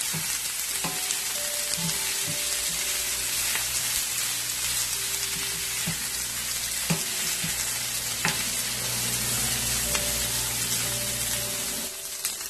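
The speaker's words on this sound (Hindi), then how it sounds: "अब इन सबको मैं मिक्स करूंगी और इसको 5 मिनट के लिए फ्राई करूंगी" Cabbage and finely chopped mutton for band gobi gosht fry steadily in a pan, with a dense continuous sizzle and occasional sharp scrapes of stirring, close and loud, with a low steady hum beneath.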